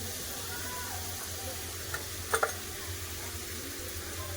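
Chopped tomatoes going into a frying pan while cooking coconut ghugni, a soft continuous sizzle with a brief clatter of utensils near the middle.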